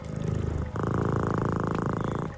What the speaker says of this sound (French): Bon, tu ronronnes, c'est une bonne chose